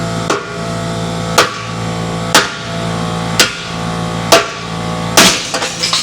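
A sledgehammer struck repeatedly against a steel frame machine, six sharp ringing metallic impacts about a second apart over a constant low mechanical hum, the last blow followed by rattling.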